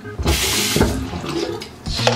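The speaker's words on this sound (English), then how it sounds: "Okay, need some more water." Water runs steadily from a tap into a sink for about two seconds, a close, loud continuous splash that dips briefly and swells again near the end.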